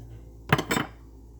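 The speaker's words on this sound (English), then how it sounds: "Let's stir that up." A spoon stirring cinnamon into sugar in a bowl: two quick, close scraping clinks against the bowl, followed by quiet.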